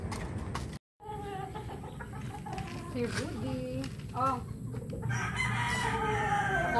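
Hens cluck and a rooster crows repeatedly at close range during feeding time in a backyard flock. A person speaks briefly between the calls.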